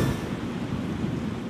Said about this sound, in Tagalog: mahangin pa rin kung mapapansin nyo, bagamat medyo paambon-ambon na lang